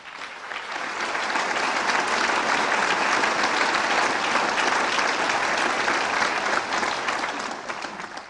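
Audience applause at the 1990 Africa Prize announcement ceremony, a dense, even roar of clapping that swells in, holds strongly for several seconds and tapers slightly at the end, with no talk over it.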